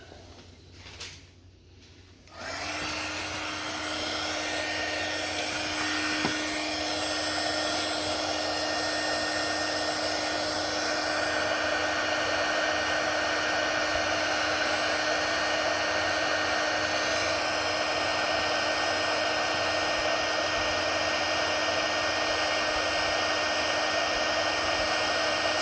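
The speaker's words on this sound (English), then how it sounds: "And we'll heat it up." A heat gun blows hot air onto heat-shrink tubing over a soldered joint on an LED pixel wire, starting after a brief quiet moment and then roaring loudly and steadily, close to the mic, with no talking.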